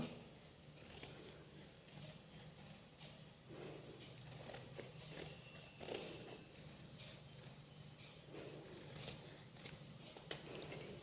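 Scissors snipping through nighty fabric during a sewing class cut, a steady run of soft crisp cutting strokes close by, fairly quiet with light room noise and no talking.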